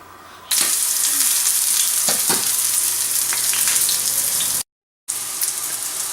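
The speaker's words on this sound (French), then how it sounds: "je vais les faire dorer dans l'huile d'olive de chaque côté" Potato and cabbage pakora balls fry in olive oil with a loud, steady crackling sizzle, a few sharper pops and spatters rising above it, broken by one brief gap of silence near the end.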